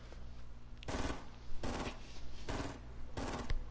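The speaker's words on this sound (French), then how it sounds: "Il y a des coups de feu direct à côté de moi" Close automatic gunfire in a video game comes in four rapid bursts, each rattling for about half a second, with short pauses between them.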